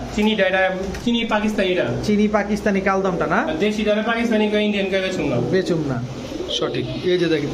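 Pigeons cooing at a busy pigeon market, steady layered coos and calls running throughout with someone talking over them.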